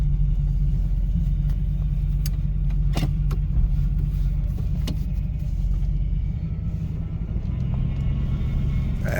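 A 1978 Lincoln Mark V Diamond Jubilee Edition drives along, its engine a steady, loud low rumble heard from inside the car, with scattered small clicks and rattles and no talk.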